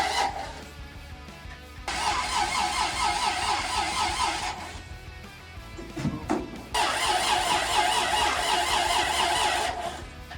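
A car engine repeatedly cranks without catching during a first start attempt, with two long, loud bursts of starter whirring separated by a pause and a short clunk, close by and with no talking.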